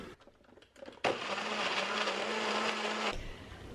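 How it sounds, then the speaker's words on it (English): Short rattling sounds are followed by a blender starting abruptly and whirring loudly and steadily for about two seconds as it makes a smoothie, then cutting off sharply. "So I'm going to make a smoothie"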